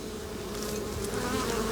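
Honey bees buzz in a dense, steady hum close by at a hive entrance, many wings droning together with a few brief louder passes.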